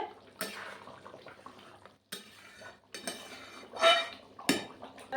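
Cooked mutton curry taken off the heat and poured from a pot, heard as metal scraping and clanking with wet sloshing in several bursts separated by short pauses.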